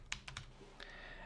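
A quick burst of keystrokes on a computer keyboard during a Linux terminal command, several crisp clicks close together followed by a softer key press, heard alone at close range.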